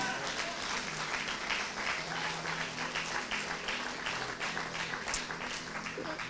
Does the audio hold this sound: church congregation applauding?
yes